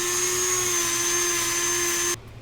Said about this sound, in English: I'm going to take this Dremel and kind of fill this edge in just a little bit better on the edge.